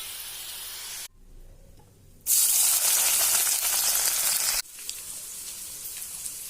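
Bitter gourd pieces fry in hot oil for a pickle, giving a steady loud sizzle that drops away briefly, then returns in a strong hissing burst before settling to a softer bubbling fry.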